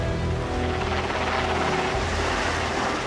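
A helicopter heard steadily and loudly throughout, its rotor and engine making a dense, continuous drone with no voices over it.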